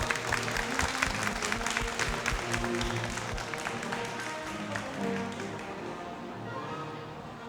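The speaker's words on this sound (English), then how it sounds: "Let's give a warm round of applause for Ms. Cécile Renault." An audience at an international forum on critical-thinking education bursts into sustained applause, many hands clapping densely at first and then thinning gradually toward the end.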